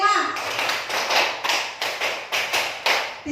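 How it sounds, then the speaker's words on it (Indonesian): A group of adults claps along to a counted pattern, sharp repeated handclaps in quick bursts, fairly close, with a voice calling the count over them. "2 kali tepuk 5"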